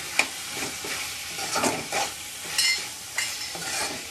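Spoon stirring marinated chicken fry masala in a hot pan: repeated scraping strokes at an irregular rhythm over a soft sizzle, close and moderately loud, with no talking.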